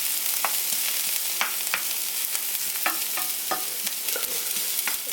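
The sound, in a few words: onion sautéing in a hot pan for tacos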